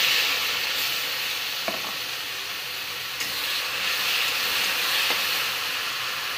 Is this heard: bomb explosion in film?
no